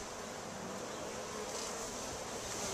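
A honey bee colony being hived gives off a faint, steady, close buzzing hum with a soft airy wash, continuous and with no talking.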